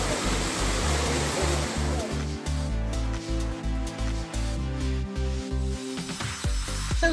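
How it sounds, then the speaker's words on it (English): Constant roaring wash of falling water at Emerald Pool in Dominica, loud and broadband at first, then partly masked by music that rises over it. "And this is the beautiful waterfall."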